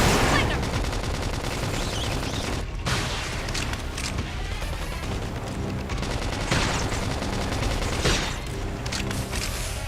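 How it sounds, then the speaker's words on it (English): Sniper gunfire in the video game Xenoblade Chronicles X lands amid a dense barrage of shots and booms, loud and continuous, layered with game effects and a voice talking over it. "What is shooting me? There's like a sniper in here."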